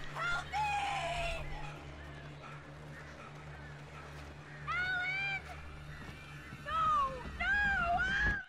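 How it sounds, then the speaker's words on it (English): Attacking birds in the video game Alan Wake give harsh, rising and falling cries in several loud bursts over a steady low electronic drone. "The birds, the darn birds."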